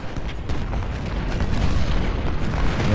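Artillery fire booms continuously through a Civil War battle in the game Ultimate General: Civil War, with deep rumbling blasts layered into a dense roar that swells slightly over a few seconds.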